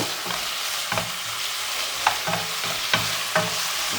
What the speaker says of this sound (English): that's browned off quite nicely now